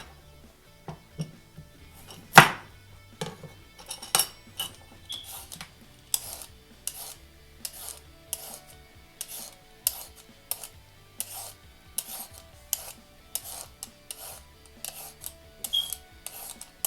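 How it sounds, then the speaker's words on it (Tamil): A carrot being peeled, with rhythmic scraping strokes repeating every second or so, close but fairly quiet, and one sharper knock early on, with no talking. "இப்போ நம்ம வந்து இந்த கேரட்டை வந்து தோல் சீவிடலாம்."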